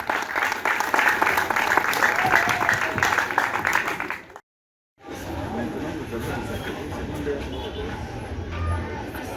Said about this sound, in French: Plus fort, chers élèves, d'acclamation.